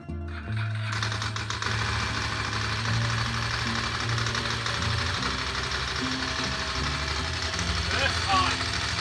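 A Ducati Monster 900 motorcycle engine, started with the choke on, cranks briefly and then catches. It settles into a loud, close, lumpy idle that runs steadily to the end.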